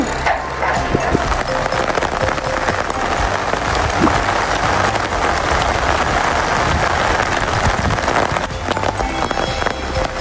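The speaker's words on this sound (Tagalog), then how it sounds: "Ang lakas ng ulan." Heavy rain pours down while the sun shines, after Typhoon Wilma, in a steady, dense roar that holds at the same loudness throughout.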